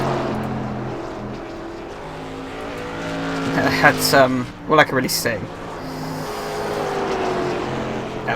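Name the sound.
SK Modified race car engine in iRacing video game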